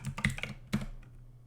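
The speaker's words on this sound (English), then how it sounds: "Type in my password" A few crisp computer keyboard keystrokes come in a quick cluster of clicks, close and fairly quiet, as a password is typed at a Linux terminal.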